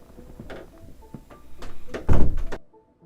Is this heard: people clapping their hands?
no